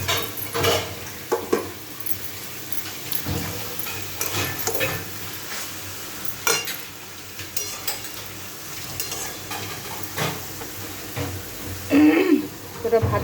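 Pre-fried rice goes into a frying pan, with steady sizzling under repeated scraping and stirring clatter of a utensil against the pan; a person talks over the cooking.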